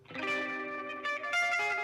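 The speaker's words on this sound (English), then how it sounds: "Just add some more distortion to it, and then he added this." A music sample run through a distortion effect plugin, giving a sustained, buzzy, harmonically rich tone that shifts brightness partway through, close and steady, with no talk.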